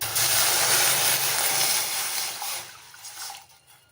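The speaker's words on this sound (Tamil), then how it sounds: "ரெண்டரை கப் அளவு தண்ணி சேர்த்துக்கிறேன்" Two and a half cups of water poured into a heavy-bottomed pan, a loud, steady rushing splash that gradually thins and trails off toward the end.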